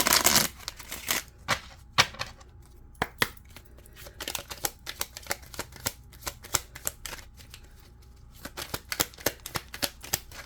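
Rapid, crisp flicks and taps of tarot cards being shuffled, coming in quick bursts with short pauses, close by and fairly quiet, with no talking.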